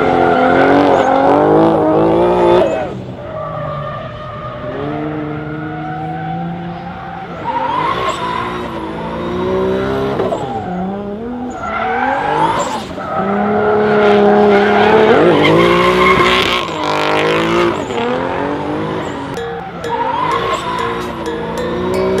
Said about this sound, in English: Oh snap, is that a drift event over there?